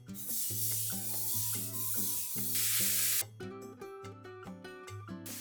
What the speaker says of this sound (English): Grab a frying pan and 0-calorie spray to cook the ground beef.